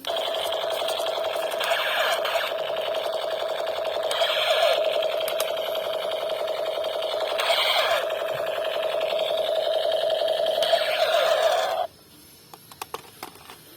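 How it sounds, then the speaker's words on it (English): A battery-powered toy Gatling machine gun fires in one continuous electronic rattling buzz, steady and fairly loud with slight pulsing swells, running for about twelve seconds before cutting off abruptly into faint clicks. "Gatling machine gun"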